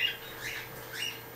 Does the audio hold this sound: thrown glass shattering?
no